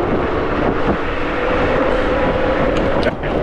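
An Inmotion RS electric scooter rides along a street in the Bronx, a steady broad rush of wind and road noise with a faint rising motor whine and no talk.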